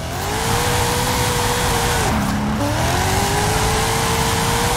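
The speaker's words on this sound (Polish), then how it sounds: "ja mam tam nieco ponad 1000 koni mechanicznych samochód do driftu, a on i tak się tutaj muli na niektórych zakrętach" A 1000+ horsepower drift car engine in Forza Horizon 5 holds a loud, steady high rev, dips briefly as it shifts, then climbs again with a tire-squealing drone, with no talk over it.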